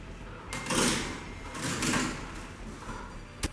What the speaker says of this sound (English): pop this bad boy in the oven